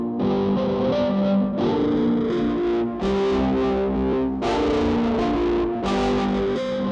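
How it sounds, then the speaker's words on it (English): Electric guitar run through the free Boogex amp simulator distortion plugin, with thick, fuzzy sustained chords struck in several distinct bursts, loud and unaccompanied by speech. "Boogex is an amp simulator that offers harmonic generation and amp emulation."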